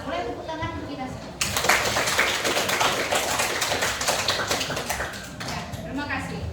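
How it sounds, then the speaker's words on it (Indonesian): A classroom of pupils applauds together in a sustained burst of dense clapping, fairly close, preceded and followed by a teacher speaking. "Boleh tepuk tangan untuk kita semua."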